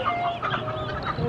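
Small chicks and turkey poults chirp in a box, a busy overlapping chorus of high peeps close by, continuous for about a second.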